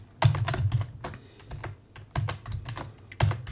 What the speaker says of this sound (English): If we can type correctly